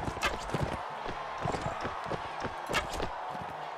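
Horse hooves in Mount & Blade: Warband, an irregular run of clip-clop strikes at close range through the whole stretch, with other game sounds mixed in.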